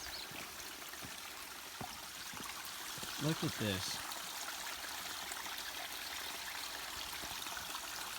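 Water from a natural waterfall on a small creek rushes in a steady, broad hiss, with a person speaking briefly over it.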